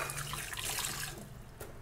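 A kitchen tap runs steadily as hands are wetted while shaping baked kibbeh, a close, continuous splashing hiss that barely changes throughout, with no speech.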